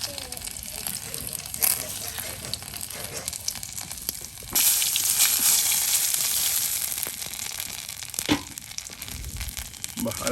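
Garlic hits hot oil with a sudden loud sizzle that swells midway and then hisses on steadily up close, with a few clinks and scrapes and someone talking over it.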